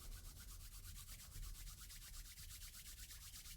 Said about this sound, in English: Bring some electrical current to the hands, rub the fingernails together